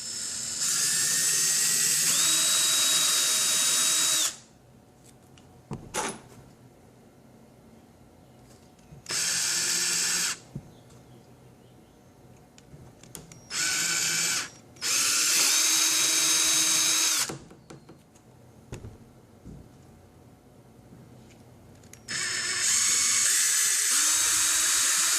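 A power drill fitted with a tape-marked bit bores a hole in several loud, sustained whining bursts of varying length, separated by quiet pauses and faint handling clicks.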